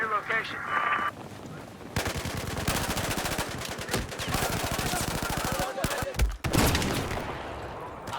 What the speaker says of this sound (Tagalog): Binabaril ko na eh.